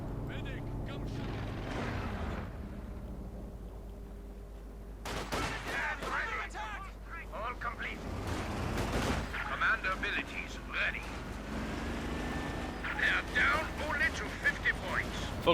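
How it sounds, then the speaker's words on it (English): A leFH howitzer barrage in Company of Heroes 2, with scattered distant booms and crackling gunfire under steady commentary from a voice. "Leicht's Feldhaubitz unleash another withering barrage against the Russians"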